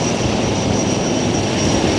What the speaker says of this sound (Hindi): इनके ठीक पीछे है 42B पनडुब्बी प्रतिरोधी और seeking 42 Bravo helicopter commander Harpreet Singh Baweja की अगुवाई में।